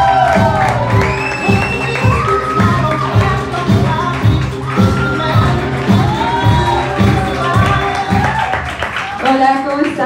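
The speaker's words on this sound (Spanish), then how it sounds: "reciban con un fuerte aplauso a la primera comediante de la noche" Loud crowd applause and cheering with whoops and children shouting greet a comedian at a live comedy show, dense clapping sustained throughout with voices and music-like tones mixed in.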